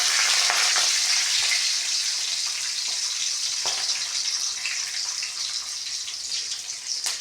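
Green chillies, garlic and cumin fry in hot oil with a dense, steady sizzle, close and loud throughout, fading slightly toward the end, with faint stirring clicks and no talk.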